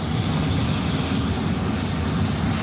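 A train engine passes close and loud, a dense, steady roar of wheels and machinery with a high squealing hiss on top, continuous with no talk.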